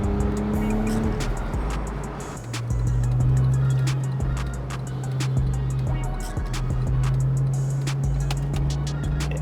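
A Land Rover Defender 110 with a Miltech exhaust and 160,000 miles drives on the road, its steady engine drone rising in pitch midway and holding, with tire and road noise underneath.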